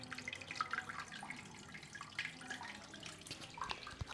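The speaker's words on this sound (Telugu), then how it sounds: "ఇక్కడ శివయ్య దగ్గరైనా సరే వాటర్ సౌండ్స్ ఎంత మంచిగా అయితే అనిపిస్తుంది" Water runs continuously over a Shiva lingam in an old riverside temple on the Musi, a faint, steady trickle with soft splashes and drips.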